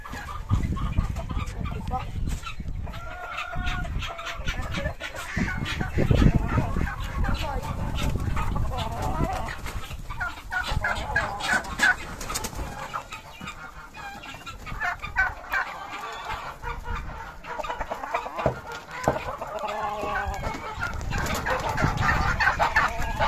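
Chickens and roosters cluck and squawk in a farm henhouse, busy and close throughout, while people talk over them at intervals.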